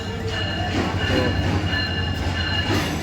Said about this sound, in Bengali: এই তো বলতে বলতেই আমাদের ট্রেনটি চলে আসছে